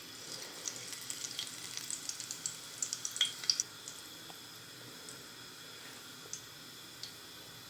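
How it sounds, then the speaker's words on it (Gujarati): Cumin seeds dropped into hot oil crackle and sizzle softly in a pan, a cluster of small pops and spits early on that thins to sparse crackles, quiet and close with no talking. "આપણે તેલ ગરમ થઈ ગયું આપણે એમાં જીરું નાખીએ"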